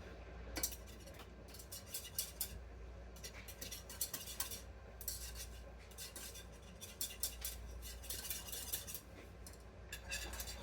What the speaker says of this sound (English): you stir it constantly until it comes to a boil